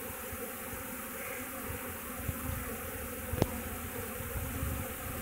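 Honeybee swarm fanning at a hive entrance: a steady, dense insect hum fills the whole stretch, with one brief sharp click partway through.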